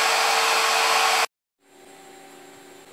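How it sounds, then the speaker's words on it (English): Water-cooled CNC spindle running at 23,000 RPM in a shop: a loud, steady airy whine cuts out abruptly, then after a brief silence a softer, smoother whine with a thin high tone returns. "I'll fire the spindle back up real quick, and you can hear the difference as it is across the shop."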